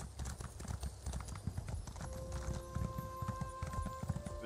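Hooves clip-clop in a quick, steady galloping rhythm as a horse runs in a video game, with occasional game tones and a brief whinny-like sound, loud and close throughout.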